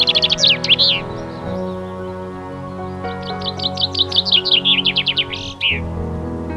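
A chaffinch sings outdoors, loud and close: two bright, rapid descending trills, each ending in a flourish, with a steady low hum underneath.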